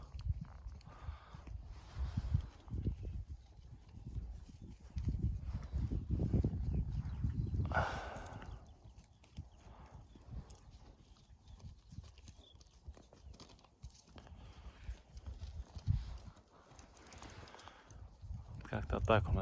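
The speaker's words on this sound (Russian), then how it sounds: "Лошади идут на водопой." Several horses walk unhurriedly to a watering place, their hooves clip-clopping in a loose, steady rhythm at close range, with people's voices and outdoor ambience mixed in throughout.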